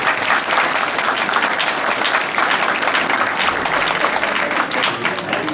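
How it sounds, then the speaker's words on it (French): A dinner audience at the Entraide de Courcelles applauds the Germois with loud, dense, steady clapping that fills the room without pause and has no speech over it. "Alors on peut peut-être déjà applaudir le Germois parce qu'ils sont sympas."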